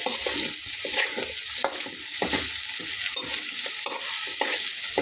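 Fried potatoes are being stirred together with onion in a hot pan: a close, rhythmic scrape-and-sizzle with repeated stirring strokes over constant frying hiss, no talking.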